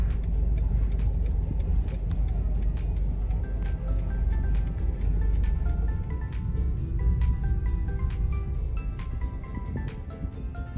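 Road traffic heard from inside a car: a continuous low rumble of engines and tyres with a steady run of sharp ticks above it, fading slightly toward the end.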